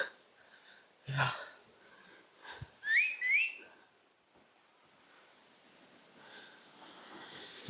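A person whistling beside a waterfall, a few short rising and falling tones with soft breaths and snorts between them against a quiet background rush.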